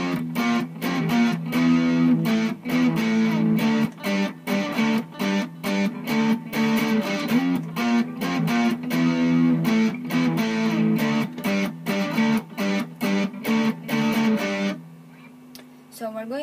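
Distorted electric guitar plays the intro of a song, loud power chords in a driving rhythmic pattern with steady attack, heard alone and close, ending with a sustained chord that rings out.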